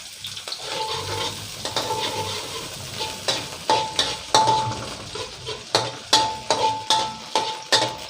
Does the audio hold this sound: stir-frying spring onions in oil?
yes